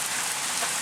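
Rain from a rainstorm falls steadily on surfaces outdoors, a close, even pattering hiss over a brief moment with no talking.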